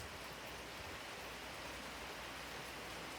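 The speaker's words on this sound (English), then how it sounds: "Beautiful, life-giving rain" Steady rain falls in a dense, even hiss outdoors, faint and continuous with no distinct drops or voices.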